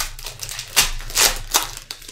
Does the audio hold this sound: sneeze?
no